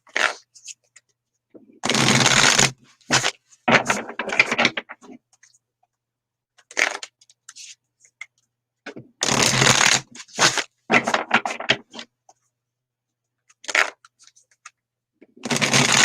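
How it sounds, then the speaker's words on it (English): Tarot cards shuffled by hand in several bursts of riffling and flicking, fairly close and clear, with quiet pauses between rounds and no talking. "Let's pull some cards. The Lemurian ones first."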